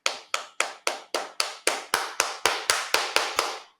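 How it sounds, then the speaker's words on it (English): One pair of hands claps alone in an even, steady rhythm, about thirteen crisp claps close by with no talking. "give yourself a round of applause"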